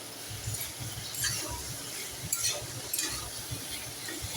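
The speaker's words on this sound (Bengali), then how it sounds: "ভালো করে সয়াবিনটা আলুর সঙ্গে মিশিয়ে নেব। এইভাবে আরও কিছুক্ষণ রান্না করে নেব।" Soybean chunks and potatoes stirred in a pan, with soft scraping strokes and a quiet sizzle, the spoon knocking irregularly against the pan, close and faint with no talk.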